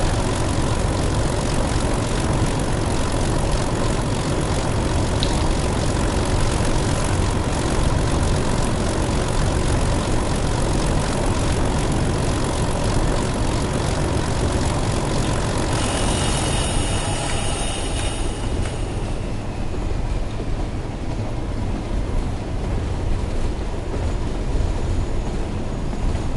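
A train engine in Train Sim World 2020 runs as a steady, loud, continuous drone with broad rumble that holds unchanged for the whole stretch, alone without talk.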